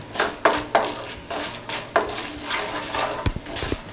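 Coriander seeds, mustard seeds and chana dal being stirred in a pan for mint chutney, with a few distinct scrapes and clinks of the spoon against metal over a soft continuous rustle, ending in a quick cluster of knocks.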